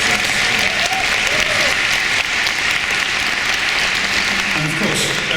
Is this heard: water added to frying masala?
no